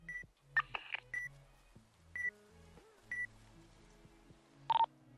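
Electronic tracking beeps from orca microchips in a video game, short sharp tones repeating at irregular intervals over quiet background sounds.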